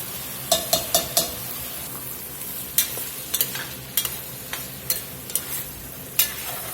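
Ground meat browns in a pan for a spaghetti bake, a low steady sizzle running throughout while a utensil scrapes and stirs in sharp, irregular clacks, close and fairly loud, with no talking.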